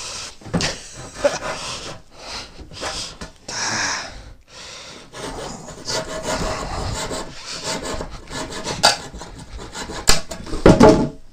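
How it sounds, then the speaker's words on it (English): Hand saw cutting a wooden board without sawhorses, loud and close, rasping strokes in an uneven back-and-forth rhythm with short pauses, and heavy breathing between strokes. "I'm sawing a board."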